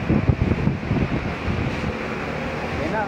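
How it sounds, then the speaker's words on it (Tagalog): Strong typhoon wind buffeting a footbridge in Cavite, Philippines, a loud roaring rush with heavy rumbling gusts hitting the microphone, easing into a steadier blustery roar. "ang lakas ng hangin guys."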